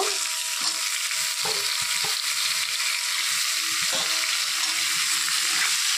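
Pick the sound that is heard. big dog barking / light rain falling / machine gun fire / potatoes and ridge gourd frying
potatoes and ridge gourd frying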